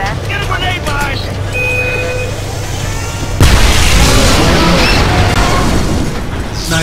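A grenade explodes in the shooter video game Homefront. Game voices and background noise come first, then a sudden loud boom breaks in and leaves a heavy rumbling roar.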